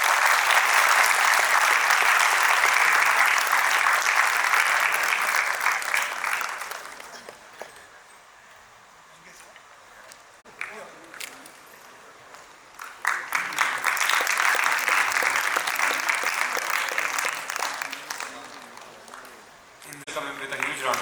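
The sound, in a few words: applause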